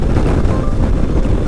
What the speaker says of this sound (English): It's insanely windy.